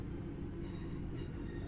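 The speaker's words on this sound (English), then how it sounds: "Please all disembark the train after it reaches a full stop." West Midlands Railway train pulling into a station in a train simulator game, a steady low rumble of wheels and running gear, constant and moderately loud.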